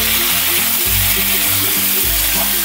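Chicken pieces frying in hot spiced oil (phoron) in a pan, a loud, steady sizzle with low bubbling pulses from stirring, close and alone without speech.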